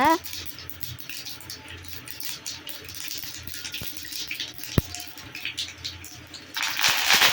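Mustard seeds and curry leaves spluttering in hot oil, a steady fine crackle and patter running continuously beneath someone talking.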